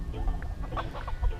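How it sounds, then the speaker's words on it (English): A backyard rooster clucks in short, soft bursts close by outdoors in a winter garden, a few quick throaty notes with no talking. "You can hear my rooster in the background."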